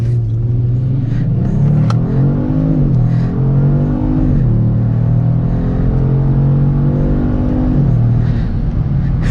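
A Kia Stinger GT in sport mode accelerates hard from a standstill, its engine droning loud and near and climbing through gear shifts, with each upshift marked by a brief dip in pitch.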